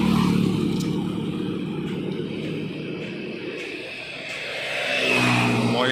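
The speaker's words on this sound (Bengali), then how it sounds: "ইনোভা যাচ্ছে, পশ্চিম মেদিনীপুর নাম্বার।" A Toyota Innova with a West Medinipur registration passes on a national highway, its engine and tyre roar loud and steady close by, easing off midway and then swelling again as more road traffic comes through.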